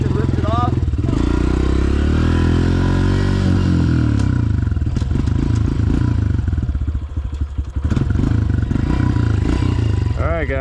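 A 2022 Honda CRF125FB dirt bike engine running close by, revving and roaring with rattling idle in between, while someone talks over it.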